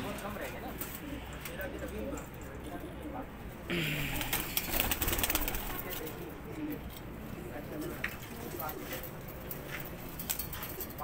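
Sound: pigeons cooing

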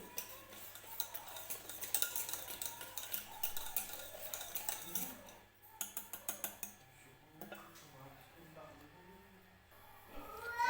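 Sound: stirring and mixing gram flour batter for bread pakora

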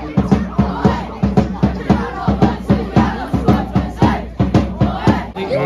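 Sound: football crowd at a Scottish Cup match

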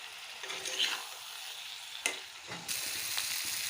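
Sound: spices and fish sautéing in hot oil in a pan

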